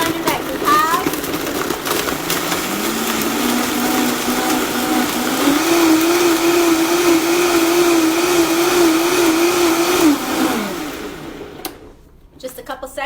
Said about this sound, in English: So here we go with the Vitamix or any blender that you have.